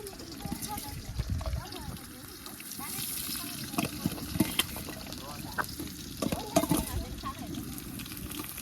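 Onions frying in a pan with whole spices for a festival biryani, a steady broadband sizzle with scraping stirs, partly under a person talking throughout.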